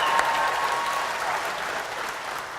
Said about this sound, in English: Nobody wants to clap for your dad?